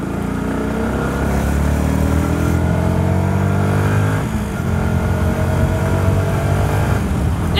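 A small Yamaha motorcycle engine idles steadily close by after sitting unused for a long time, a low even throb with a brief dip in revs midway before it settles back to a smooth, continuous run.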